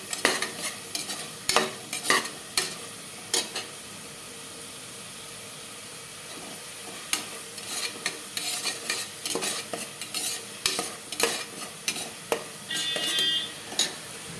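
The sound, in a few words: sautéing and stirring in a pan for tomato biryani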